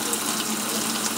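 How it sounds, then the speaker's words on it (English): Water pours into a Della portable washing machine as a steady, close gushing rush from a tap that fills the whole short moment without any talking. "Getting some water flowing in here."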